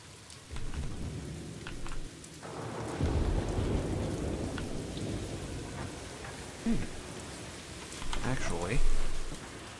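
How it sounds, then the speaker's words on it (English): Haunted castle on a rainy night ambience in the Planet Coaster video game: steady rain with rolling thunder that swells and fades, several heavier rumbles and a few sharp crackles near the end, moderately loud and without speech. "Haunted castle on a rainy night."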